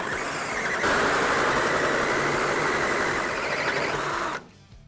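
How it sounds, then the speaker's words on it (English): An Eastwood Pro tubing notcher's hole saw cuts a 90-degree notch in metal tubing, giving a loud, continuous grinding whine that holds steady for about four seconds and then stops abruptly. "So we're going to get started with our 90-degree notch now that we're set up."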